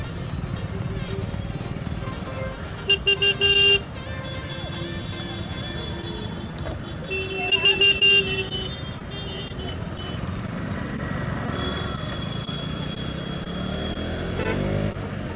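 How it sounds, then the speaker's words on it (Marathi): Street traffic heard from a motorbike: a constant rumble of engines and road noise, with short beeping tones standing out twice near the start and middle, then a higher tone later. "इकडे पण ट्रॅफिक रे भाई."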